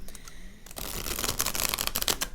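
A tarot deck is shuffled by hand. After a quiet moment, a dense, crisp rustle of cards starts and keeps going steadily to the end, close and fairly soft, with no talking over it.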